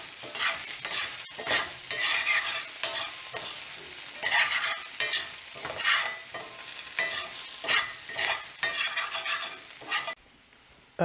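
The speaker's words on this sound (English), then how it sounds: "So I'm just going to add that in and continue to stir." Seasoned baby potatoes with garlic powder and paprika fry in a cast iron skillet for a steak and eggs hash, with repeated close scraping stirs over a steady sizzle; no talking, and it drops quieter at the very end.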